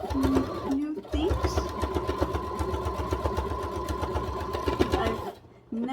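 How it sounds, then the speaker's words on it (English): A sewing machine runs steadily for about five seconds, stitching a circular fabric piece, with a close, fast mechanical rattle and hum. It starts and stops briefly at the beginning and ends with a pause. Faint speech is mixed in. "I've never sewn anything like this before."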